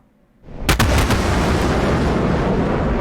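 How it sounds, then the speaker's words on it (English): Missiles launch in a combat flight game against a Russian MiG-31 over the Black Sea: a sudden loud burst of several sharp cracks settles into a sustained, roaring rush of rocket exhaust that continues steadily to the end. "All the missiles, cap, fire!"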